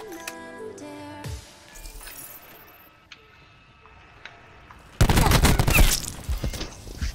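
Video game shooter gunfire erupts in a loud, dense burst of rapid shots in the last two seconds, after quieter in-game ticks and menu-like tones.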